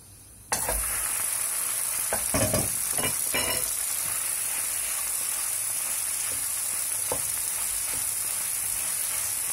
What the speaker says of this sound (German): Und dann brutzeln wir die Bohnen erstmal an.